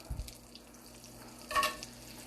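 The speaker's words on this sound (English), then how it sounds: "It looks like it's sizzling and it's ready for our chicken." Butter and oil heating in a pan before chicken goes in for chicken marsala give a faint, soft sizzle and crackle, with one brief louder burst partway through and no talking.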